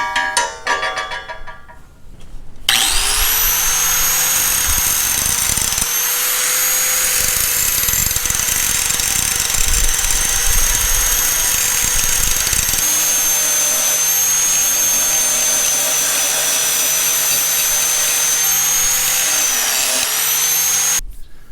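Grinding down a cracked metal throttle shaft with a power grinder: a loud, steady high-pitched whine runs continuously for most of the clip after a brief start, with no talk.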